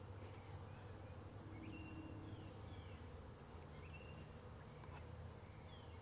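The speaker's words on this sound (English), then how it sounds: "these bees will start coming out of there." A faint, steady insect buzz hums throughout, like bees swarming nearby, with occasional brief chirps above it and no talking.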